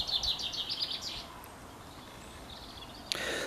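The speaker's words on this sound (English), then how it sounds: "this lovely audio backdrop of birds, running water" Small birds sing in a quiet outdoor soundscape: quick bright chirps cluster at the start, fainter calls follow, and one sharp note comes near the end, all over a soft wash of running water.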